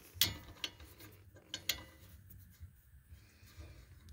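A half-inch ratchet with an 18 mm socket on a wobble extension works on the front brakes of a 2007-2012 Chevy Silverado 1500, giving a few sharp clicks and clacks among soft, quiet mechanical shuffling nearby.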